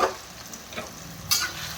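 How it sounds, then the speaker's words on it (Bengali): Ground turmeric, chilli powder and other spices frying in a pan for Bengali baingan bharta, with soft sizzling, a few stirring scrapes and a brighter hiss burst near the end, close and fairly quiet, no talking. "এগুলো ভেজে নিই। এই যে ভেজে নিই,"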